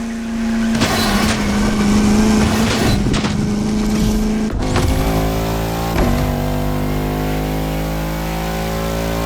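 Bugatti La Voiture Noire engine in The Crew Motorfest, a loud sustained drone that climbs and shifts pitch through gear changes, with a sharp rev swell midway, heard alone without talk.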